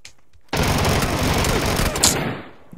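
Video game gunfire erupts in a loud, dense burst of shots that runs for about two seconds after a brief quiet start, then trails off, with no voices.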